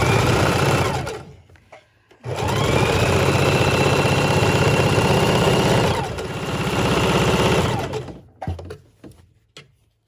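A sewing machine running a quarter-inch seam on a neck bone pillow, loud and close, with two long continuous stitching runs separated by brief pauses and a slowing, stop-start finish.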